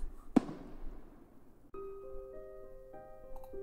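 Fireworks in the Roblox game Piggy Book 2, chapter 8 aboard a ship: a single sharp burst rings out early and decays, followed by steady tonal game music, all fairly faint with no talking.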